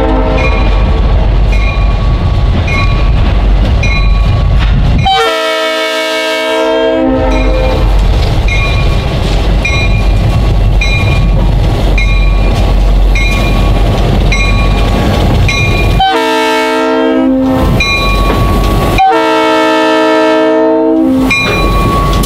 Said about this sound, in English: Today's southbound road train is picking up several high-cube boxcars from their Saline branch